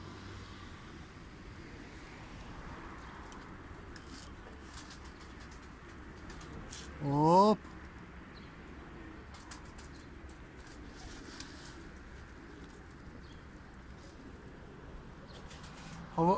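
A young Diyarbekir white pigeon gives two brief coo calls, one midway and one at the very end, over a steady outdoor background hum with a single short spoken word.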